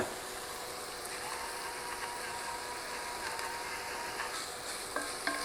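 Peppers and onions sautéing in a skillet with a pinch of salt give a steady, moderate sizzle, with faint scraping as they are moved around and a few small clicks near the end.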